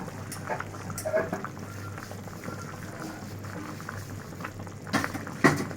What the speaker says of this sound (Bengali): তরকারিতে ঘন ঘন বলক চলে এসেছে